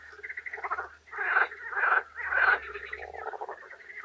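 At night, frogs croak in a loud, busy chorus of rapid pulsing calls that swell in bursts for several seconds, close by, with no one talking.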